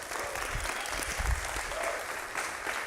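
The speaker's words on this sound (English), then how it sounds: "Rapturous applause." Steady applause from a theatre audience at an evening event, moderately loud and continuous, with scattered low thumps and faint voices mixed into the clapping.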